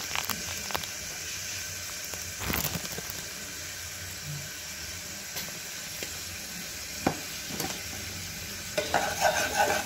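Food sizzles steadily in a hot pan while a utensil scrapes and clinks against it in occasional strokes, close up.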